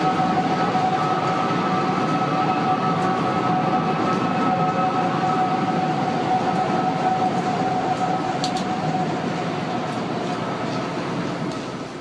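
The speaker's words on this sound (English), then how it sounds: "the tower began whistling again with a slightly different two-toned cry" Wind whistling through the One World Trade Center tower makes a steady two-toned howl, sustained and loud, with a constant rumbling roar underneath throughout.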